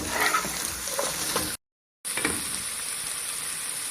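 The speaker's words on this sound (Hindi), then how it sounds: "इसको 1 मिनट फ्राई कर लें गाजर को भी।" Chicken and carrots sizzle steadily in a hot pan, a bright continuous frying hiss broken by one brief gap of silence.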